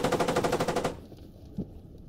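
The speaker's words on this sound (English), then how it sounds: "Please don't tell me you used the MG to shoot the tank." A burst of rapid, evenly spaced machine-gun fire aimed at a tank in Squad, about a dozen loud rounds in under a second, cutting off abruptly before a single dull thud.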